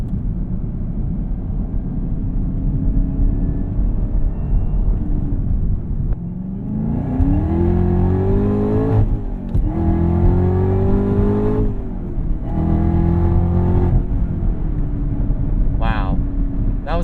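A 2021 Camaro ZL1 cruises with a low cabin drone, then pulls hard through several rising rev sweeps, with quick pitch drops between them as gears change with the throttle held flat, heard from inside; people talk over the engine noise.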